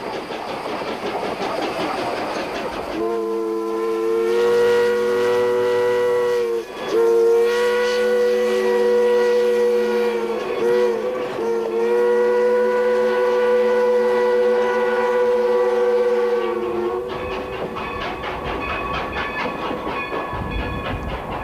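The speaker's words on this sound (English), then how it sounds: "We chose to ride to Keystone behind steam locomotive number 40" Steam locomotive number 40 hauling historic wooden passenger coaches, a long loud multi-tone steam whistle sounding over the rumble and clatter of the train, close and prominent.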